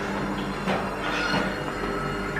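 A running tumble dryer gives a steady, loud mechanical rumble and whirring hum indoors, unbroken from start to finish.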